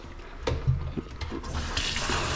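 Water runs from a tap while a Bernese Mountain Dog is being bathed, a steady splashing flow with a few brief knocks and splashes, growing brighter and fuller toward the end.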